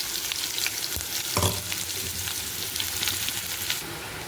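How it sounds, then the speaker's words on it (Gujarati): Cumin seeds and asafoetida sizzling in hot oil, a dense close hiss of frying with a brief louder spatter near the start, steady and unbroken with no voices. "જીરું નાખ્યું, એટલે હિંગ નાખી દેવાની."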